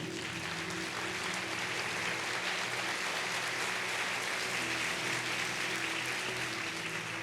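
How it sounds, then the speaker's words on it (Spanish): A church congregation applauding for the Lord, a dense, steady wash of many hands clapping together, sustained at even loudness for several seconds without a break. "Dar un aplauso al Señor."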